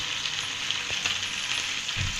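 Chicken pieces frying in hot oil in a pan for bhuna khichdi, a steady soft hiss of sizzling with a few faint low knocks and stirring sounds, fairly quiet and continuous.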